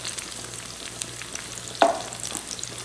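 Brussels sprouts and bacon frying in a pan, a quiet steady sizzle with a few faint crackles and one sharper clatter near the middle, no talking.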